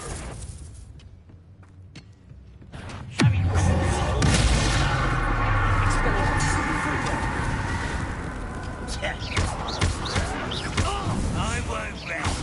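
A Bombarda blasting spell explodes in Hogwarts Legacy. A deep, loud boom bursts in suddenly after a quieter stretch and its rumble fades slowly, with a voice speaking around it.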